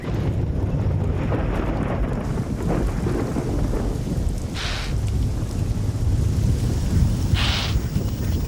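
Steady heavy rain pours through a thunderstorm in southern Africa during the December wet season, with two sharp thunder cracks breaking through the constant downpour.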